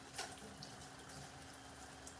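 Tap water running steadily while a chicken gizzard is rinsed in a kitchen sink for curry, faint and continuous, with a small splash near the start.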